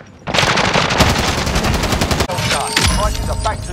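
Rapid automatic gunfire in Call of Duty Warzone, a loud sustained burst of shots rattling for about two seconds, then a brief pause and further scattered shots with game sounds.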